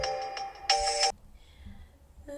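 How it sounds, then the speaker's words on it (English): A mobile phone rings indoors with a bright electronic tone: a quick run of short repeated beeps, then a longer sustained burst, then quiet, with a fresh ring just starting at the end. "Y'all hold on, that's my phone."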